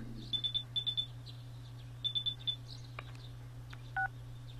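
A phone call rings in the Persona 4 game as quiet bursts of three high electronic beeps, repeated several times over a steady low hum.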